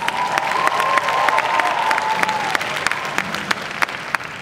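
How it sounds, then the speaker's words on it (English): An audience applauds at a Lolita fashion show with steady, close clapping and a few sharp individual claps, a light cheer mixed in, holding level before tapering. "That needs an applause."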